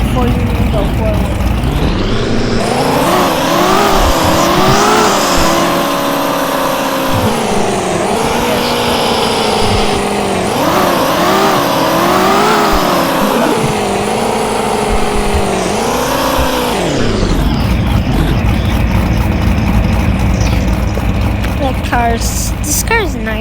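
A video game car engine revs loudly and continuously, its pitch climbing and dropping through repeated gear changes, close and dominant throughout.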